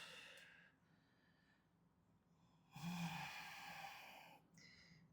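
Slow, deep yoga breaths: a soft airy exhale, a pause, then a louder, fuller breath through the nose, close and breathy with no talk.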